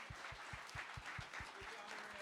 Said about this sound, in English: give yourselves a big round of applause for being here and joining us